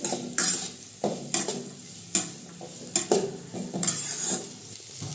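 Vegetables for Hakka noodles stir-fried in hot oil, with a continuous sizzle broken by frequent sharp clanks and scrapes of a spatula against the pan, irregular and close, no voices.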